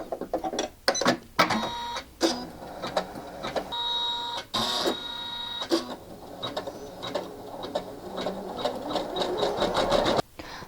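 An embroidery machine sews a placement stitch on tearaway stabilizer for a mini felt cupcake design, with a fast, steady mechanical needle chatter broken by short pauses and clicks, close and clear.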